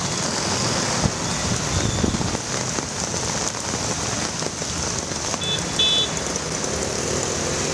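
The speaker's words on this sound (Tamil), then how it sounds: "இரவு முழுவதும் கனமழை வெளுத்து வாங்கியது" Heavy rain pours steadily in Chennai, a dense continuous hiss of drops striking surfaces nearby, with a faint car passing underneath.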